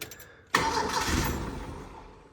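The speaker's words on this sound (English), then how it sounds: "So let me try and crank it now, see if we hear any whistling." A turbocharged Mercury Capri that has sat abandoned for 23 years and runs rough cranks and catches abruptly, then settles into a loud, close, steady running drone with a faint high whine over it.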